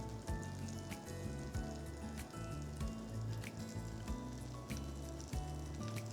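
French toast sticks fry in a pan on medium heat, a steady close sizzle with soft pattering crackles running through the whole stretch and no talking.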